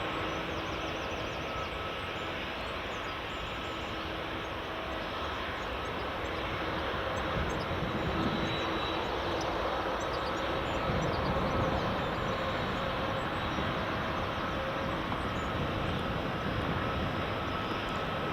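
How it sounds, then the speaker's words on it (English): Two EasyJet airliners taxi past a waiting Delta jet at Edinburgh Airport, a steady distant jet-engine rumble and whine that swells slightly partway through and stays constant. "Delta's just holding position for these two EasyJets to pass, and then once they passed, it should taxi into its stand."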